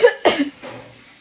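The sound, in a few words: cough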